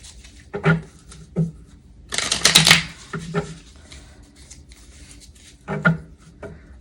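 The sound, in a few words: shuffling tarot cards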